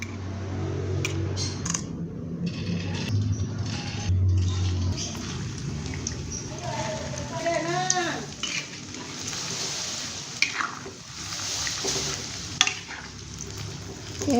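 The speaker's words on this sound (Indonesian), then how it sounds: "saya goreng hingga kecoklatan" Egg-dipped potato perkedel fritters frying in hot oil, a loud continuous bubbling sizzle with stirring and scraping noises and brief clinks, a voice talking faintly at times.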